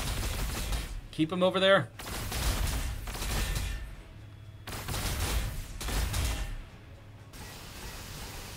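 Bursts of gunfire in the strategy game Warhammer 40k: Sanctus Reach, several loud volleys separated by short gaps, with a clipped mechanical rattle early on and someone speaking briefly between shots.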